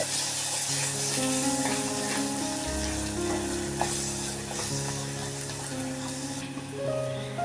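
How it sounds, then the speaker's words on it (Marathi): Goda masala fries in hot oil for a Malvani-style jackfruit seed curry, a steady close sizzle and crackle running throughout with faint background hum. "हा गोडा मसाला ना चांगला परतून घेते तेल सुटेपर्यंत"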